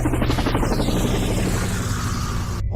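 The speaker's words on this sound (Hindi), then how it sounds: "फिर ग्रैंडपा हेलीकॉप्टर को स्टार्ट कर देते हैं।" A helicopter starts up with a dense, steady mechanical roar and rapid rotor chop, loud and close, cutting off abruptly at the end.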